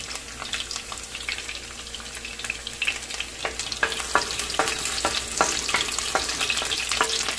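Guajillo chili mixture poured into hot oil with sliced onion, sizzling and frying steadily and loud up close, growing busier with sharp crackles and pops partway through, no talking.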